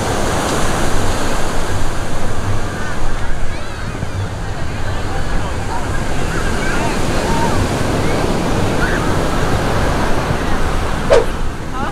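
Ocean waves washing onto a beach, a continuous broad roar of surf mixed with wind buffeting the microphone, steady throughout.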